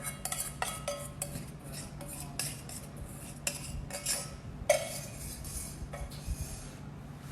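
A utensil stirs brownie batter in a bowl after the remaining chocolate is added, making quiet, irregular scraping and clinking against the bowl with no talk.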